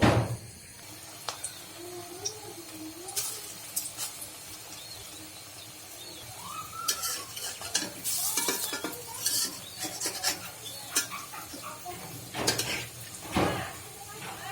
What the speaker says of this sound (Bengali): এখন আমি ভেজে নেব।